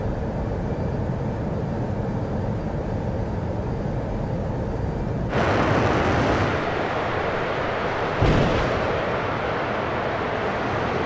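A Deimos-Inc Tiger F-5 jet in a flight simulator game roars along at high speed near Mach 1, a loud, constant broadband engine and wind rush with a sudden surge partway through and another brief burst later.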